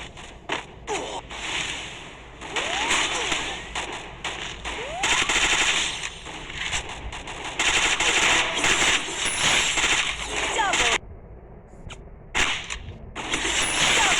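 Rapid automatic gunfire in the mobile shooter Free Fire during a Clash Squad match, dense bursts of crackling shots with mechanical clicks and ratcheting effects, loud and nearly continuous with brief gaps.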